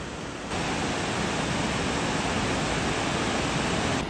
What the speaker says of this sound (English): this viewpoint gives such a better vantage as to how huge these waterfalls really are